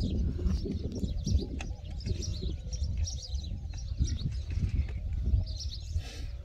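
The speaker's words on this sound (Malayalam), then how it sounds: "ഇഷ്ടംപോലെ കിളികൾ ഇങ്ങനെ കളകളാനാദം അല്ലേ? കളകളാനാദം മുഴക്കിക്കൊണ്ടിരിക്കുകയാണ്." Birds chirp and call in a tree, with short tweets and dove-like coos scattered over a low, rumbling outdoor background; the calls are moderately close and repeat irregularly with no talking.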